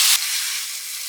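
Chicken sizzles in hot oil in a pan while cooking for pepper masala chicken fry, a steady broadband hiss that starts slightly louder and settles into continuous frying, heard alone and close.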